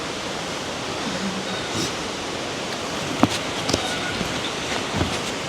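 The Balabag Waterfall in the Philippines roars as a broad, constant rushing wash of water, steady and enveloping, with a few faint clicks and knocks nearby and no clear talk.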